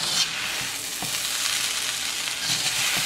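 Shrimp fried rice sizzles loudly in a hot pan with a constant crackle, and scraping stir strokes come through as it is turned over and over.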